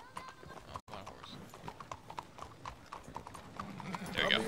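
Horse hooves clip-clop in a steady rhythm in Red Dead Redemption 2, close and moderately loud under ongoing game talk, with a brief whinny near the end.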